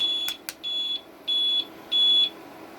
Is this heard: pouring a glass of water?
no